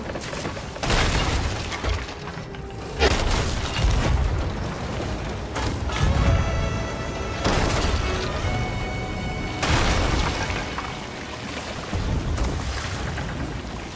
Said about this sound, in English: Need to wait for him to get into my cannon line.